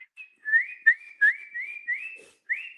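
A person whistles a short series of rising, chirpy notes in quick succession, imitating a bird call, clear and close with no talking.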